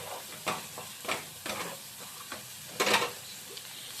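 Masala paste for prawn malai curry fries in a pan, quiet bubbling sizzle broken by several sharp spatula scrapes and stirring bursts, with no one talking.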